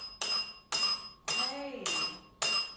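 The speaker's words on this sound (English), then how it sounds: "Can you make the bell ring again, right there by that please?" A small bell rings five times in evenly spaced bright, ringing strikes during a ghost-hunting session at Bellamy Mansion, near a doll, each strike decaying quickly, with faint murmuring voices underneath.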